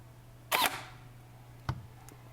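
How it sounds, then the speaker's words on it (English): An airsoft gun's bolt cycles open and closed during a semi-auto test on a Storm rifle: a sharp mechanical clack, then a second shorter click about a second later, close and clear over a low steady hum. "and then the bolt open and close"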